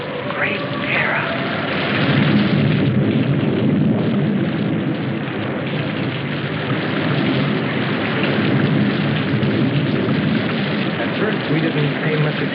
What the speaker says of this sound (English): We didn't pay much attention to the rain, though it seemed heavier than any rain we'd ever seen.